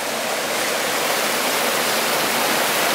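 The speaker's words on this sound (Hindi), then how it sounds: "ये है पानी" Water rushes over rocks near a waterfall at Netarhat, a dense, unbroken roar heard close and loud without any speech.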